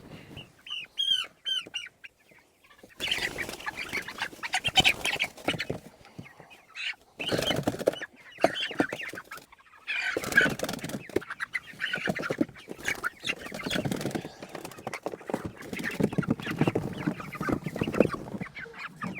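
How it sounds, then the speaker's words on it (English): Meat chickens cluck and squawk in agitated bursts as they are grabbed and tossed into bins, with rustling and handling noise between the close, fairly loud calls. "So let's start grabbing chickens."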